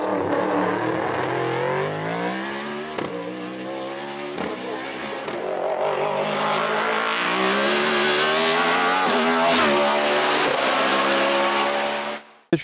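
A BMW M3 E92 race car in the production series at the Marchampt hill race, its engine loud and close as it revs hard through climbing gear changes with a few quick shifts, then cutting off abruptly.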